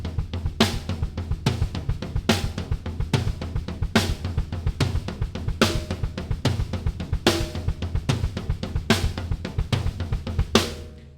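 A steady 6/8 drum beat with the high tom and floor tom struck together over a kick drum. The hits are punchy and evenly spaced, repeating continuously and close-miked, with no voices.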